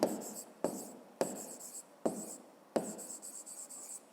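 A pen scratches across paper close by in five separate bursts, each opening with a sharp tap of the tip and trailing off before the next stroke, with no voices.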